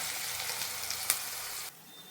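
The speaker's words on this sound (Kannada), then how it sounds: "ಈಗ ಬನ್ನಿ ಈರುಳ್ಳಿ ಹಾಕ್ಕೊಳ್ಳೋಣ. ಈರುಳ್ಳಿನ ಸ್ವಲ್ಪ ಕೆಂಪಾಗಿ ಹುರ್ಕೊಳ್ಳೋಣ." Onions frying in hot oil in a home kitchen, a soft steady sizzle with one brief crackle, cutting off abruptly near the end into quiet.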